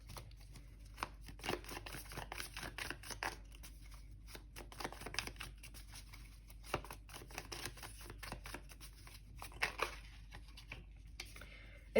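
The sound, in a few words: shuffling a deck of tarot cards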